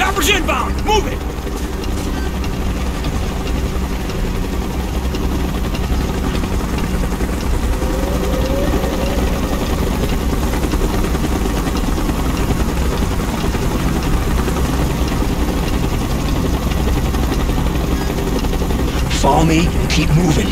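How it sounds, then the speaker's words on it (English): A helicopter approaches in the Call of Duty Black Ops video game, its engine a loud, continuous rotor rumble that holds steady throughout, with brief game effects near the end. "Chopper's inbound! Move it!"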